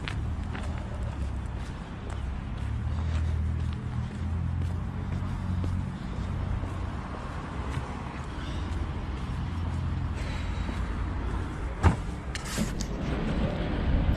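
Steady low engine drone and road rumble fill the interior of a city bus riding through Durres, Albania, with occasional faint rattles and a sharp knock near the end.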